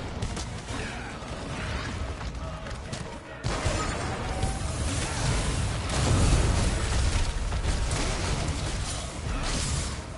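Fatalis explosions in Monster Hunter World Iceborne: heavy, sustained booming and crashing blasts fill the whole stretch, growing louder after a brief dip, with a deep rumble swelling near the middle.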